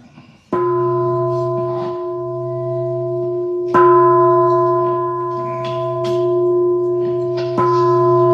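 A temple bell at a Vietnamese Buddhist chanting service for Vu Lan in Indio, California, is struck three times. Each loud, close strike rings out with a sustained metallic tone that slowly decays before the next.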